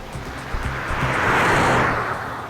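A car drives off fast, its engine rising to a loud rushing roar after a few soft knocks and then easing slightly as it moves away, with no talk over it.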